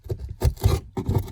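Rhythmic back-and-forth rasping strokes of sanding on a fiberglass boat hull, close up, in short bursts separated by brief pauses.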